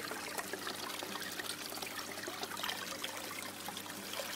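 Water pours steadily from a pump pipe into a large radial flow filter tank, a continuous rushing trickle that stays even and moderately close throughout.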